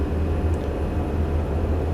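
A Pilatus PC-12 turboprop engine in a flight simulator spools up as the thrust lever advances with brakes held, giving a steady, loud low drone with a constant hum and no talk.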